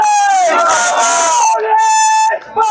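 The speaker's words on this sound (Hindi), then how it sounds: "जोरदार तालियों से भंवर साहब का स्वागत।" A crowd at a political rally in Alwar, Rajasthan, greets an arriving leader with loud, sustained cheering and shouting that fills almost the whole stretch before briefly dipping near the end.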